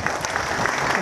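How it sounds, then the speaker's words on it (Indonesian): Audience applause at a motivational business event on stage, a steady wash of many hands clapping at once, sustained and even for the whole second with no voices rising above it. "Beri aplaus kepada diri Anda."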